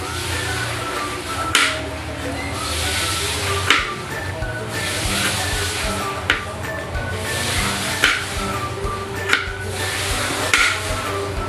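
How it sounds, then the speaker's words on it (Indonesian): White turmeric and kencur (aromatic ginger) being sliced thinly with a knife on a cutting board, a series of distinct chopping knocks spaced roughly every second or two over low background noise, close and without talk. "Pertama-tama kita potong-potong tipis kunyit putih dan kencur."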